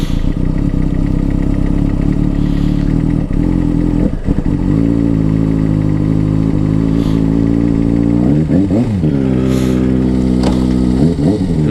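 A 2007 Kawasaki ZX6R Ninja 600 with 7,500 miles runs loud and close, its engine holding a steady note and then revving up and down in rising and falling sweeps.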